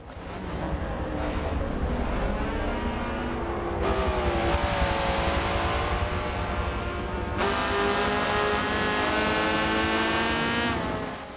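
Race car engines in a Forza video game race, with a Honda Civic among the cars, a loud continuous engine roar rising and falling in pitch through repeated gear shifts.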